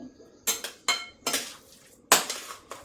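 A spoon scrapes and knocks against a pan as vegetable dosa filling is mixed with kasuri methi and coriander, giving several sharp metallic clinks in an uneven rhythm, close and fairly quiet, with no talking.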